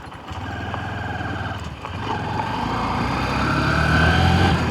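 Honda Shine 125 motorcycle engine running smoothly outdoors at sunset, a steady low mechanical drone that builds slightly in loudness, heard close with wind noise and no talk.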